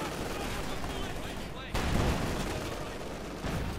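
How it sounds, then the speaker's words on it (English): Dense machine gun fire and booming tank main gun blasts from a Company of Heroes 2 match, loud and continuous with a sharp break midway, layered with battle noise. "Duke begins to fire away at the Constant machine guns, blaring down main gun bombarding"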